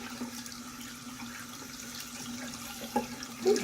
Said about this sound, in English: just rinse it out and make sure that I get all of the soap out